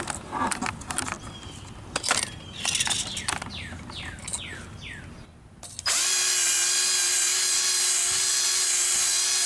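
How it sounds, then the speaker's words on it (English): A 4-inch angle grinder fitted with a wire brush scours rust and crud off worn leaf springs, starting after a stretch of scattered scraping and birdsong, then running as a loud, steady, high-pitched whine that holds on to the end. "I kind of wish I had a bigger brush for my 4-inch grinder"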